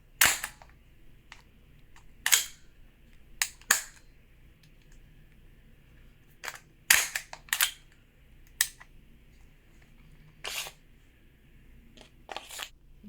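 An Umarex Glock 34 Gen 4 airsoft gas blowback pistol being handled, with a series of sharp, close mechanical clacks as the slide is pulled back and released, scattered irregularly with quiet pauses between.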